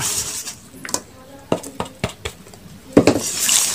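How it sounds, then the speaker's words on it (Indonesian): A spoon stirring 250 grams of wheat flour mixed with water into a smooth batter, a series of irregular clinks and scrapes against the bowl, close and fairly loud. "Kita aduk hingga dia tidak ada bergrinil-grinil ya, rata."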